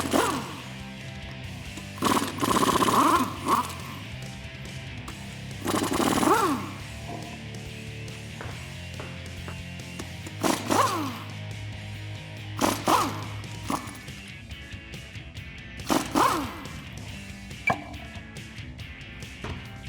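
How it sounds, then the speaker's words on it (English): An air impact wrench with a 22mm deep socket takes the wheels off a Jeep Wrangler JL Rubicon. Several loud, rattling bursts of a second or so each come in bursts, with clanks and handling noise between them and no talk. "I'm using a 22mm deep socket and my air impact wrench."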